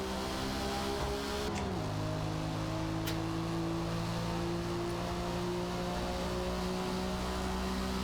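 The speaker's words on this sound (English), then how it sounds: "this car sounds extremely German" A car engine drones steadily and loudly, its tone dropping once early as it shifts gear, then settling into an even hum for the rest of the stretch.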